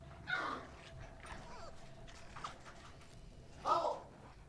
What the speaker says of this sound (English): That sounds like a little dog.